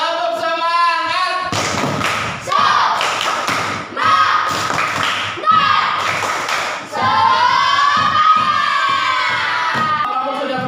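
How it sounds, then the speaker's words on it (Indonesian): A classroom of primary school children doing a rhythmic spirit clap, loud bursts of clapping and thumping mixed with children's shouting and cheering, repeated in several quick rounds. "Tepuk semangat"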